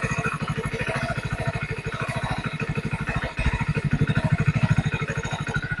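A Hero Splendor XTEC 2.0 motorcycle engine idles close by with a steady, thumping low pulse, loud and even, with a brief dip near the middle before settling back.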